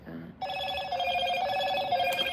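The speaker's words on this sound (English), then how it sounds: "I got a new phone. I don't know how to turn it on vibrate." A new mobile phone ringing with a bright, sustained electronic ringtone that starts abruptly after a short moment of a speaking voice and keeps going steadily and loudly at close range.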